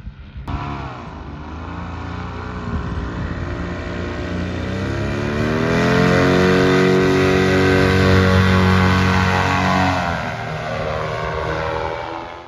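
Paramotor engine running in Saudi Arabia, a steady droning propeller buzz that swells louder in the middle as the throttle rises, then eases back, close and continuous.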